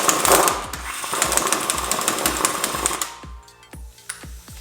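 An impact tool hammers in rapid, loud bursts on a Honda Civic axle nut, first as a dense rattling roar, then as slower, distinct knocks as the nut breaks loose.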